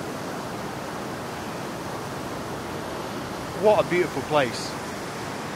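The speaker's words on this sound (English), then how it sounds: "so we're away from the noise of the river" Mountain river rushing steadily near a campsite in the Tian Shan mountains of Kyrgyzstan, a constant broadband wash throughout with a person speaking briefly over it.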